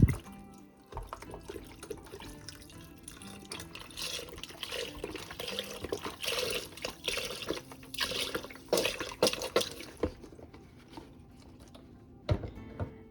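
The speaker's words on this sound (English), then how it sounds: "I'm just going to add 32 ounces of beef broth" Beef broth, 32 ounces, pours into a pot of browned meat as a continuous liquid splashing and gurgling that swells in the middle and tapers off, moderately quiet with a small clunk near the end.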